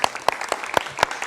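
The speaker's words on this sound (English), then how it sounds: "Let's have a little applause," A few people clap at a hybrid online conference, with about five sharp, separate claps spaced out over a second, close and sparse.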